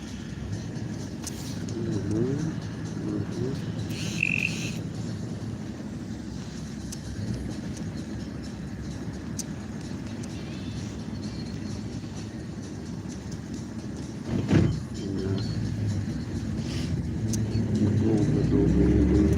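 A car driving on a road in Yakutsk at -47 degrees, a steady low rumbling drone with rattling and clattering throughout, briefly louder mid-way and swelling toward the end.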